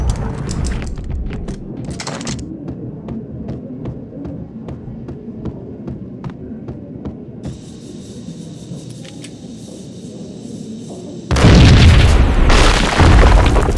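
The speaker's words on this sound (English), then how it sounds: "I thought it was a bomb for sure." A low throbbing hum and scattered ticking pulses build in the Max Payne video game. Then a sudden, loud, booming explosion bursts in near the end and roars on for a couple of seconds, with no voices.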